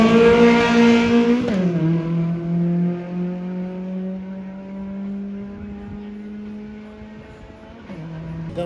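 Street race cars at a midnight Lipa versus Manila race scream past: a loud engine revs high, drops sharply at a gear change, then holds a strong droning whine before another shift near the end.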